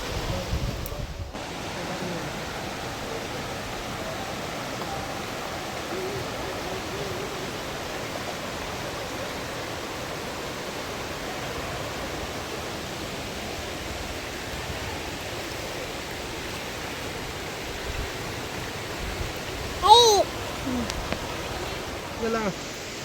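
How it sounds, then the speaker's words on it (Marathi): Waterfall at Kaas plateau, a continuous broadband roar of falling water that stays even and close, with a few brief voices near the end. "छान आहे ना वॉटरफॉल?"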